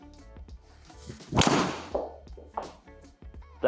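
A Cobra Darkspeed driver strikes a golf ball with one sharp, loud crack midway, followed by a fading whoosh, amid quieter clicks and small background sounds.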